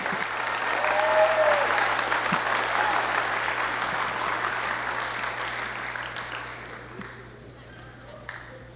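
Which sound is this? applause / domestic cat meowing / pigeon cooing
applause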